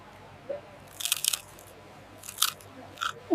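Crisp-edged street food crunches as it is bitten, a quick cluster of sharp close crunches followed by two more separate bites, loud against a quiet background.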